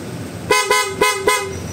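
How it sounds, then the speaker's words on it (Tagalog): Four loud, sharp blasts from a Honda ADV160 motorcycle's loud horn combo in quick succession, harmonic and bright, each short with a slight pause between, close to the listener. "sa loud horn natin, syempre may combo tayo dyan"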